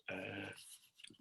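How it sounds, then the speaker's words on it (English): A dog growls in another room, a single short rumbling growl with a brief whimpering tail, faint and somewhat muffled, with no talk over it. "That's my dog, by the way."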